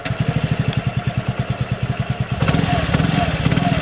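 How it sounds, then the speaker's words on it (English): A Yamaha RayZR 125 Fi scooter engine with a smart motor generator idles nearby in a steady, rapid pulsing putter, growing slightly rougher and louder partway through, with a voice talking over it. "Yamaha has fitted smart motor generator in the new RayZR 125, and that actually does bring the quieter engine start"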